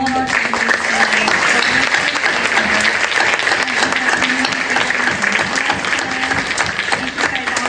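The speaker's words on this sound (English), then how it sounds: "Let's actually give a round of applause for all of our candidates tonight." Audience at a Whittier Chamber of Commerce city council candidates forum giving the candidates a round of applause, with loud, sustained, dense clapping from a close crowd that continues steadily throughout.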